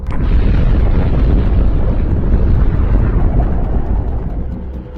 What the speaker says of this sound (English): This nuclear chain reaction causes a tremendous explosion.